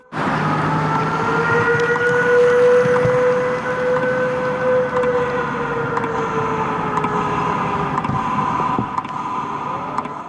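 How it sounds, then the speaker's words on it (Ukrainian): Civil defense air raid siren sounding across Chernihiv streets during the daily minute of silence, a loud sustained wailing tone that rises and slowly falls, holding steady for the whole stretch over faint city ambience with no talk. "13 серпня хвилина мовчання розпочалася разом із сигналом про повітряну тривогу."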